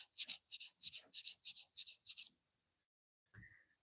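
Rhythmic rasping strokes of sandpaper on a wooden handle, about a dozen quick back-and-forth rubs, then a pause and a brief final scrape.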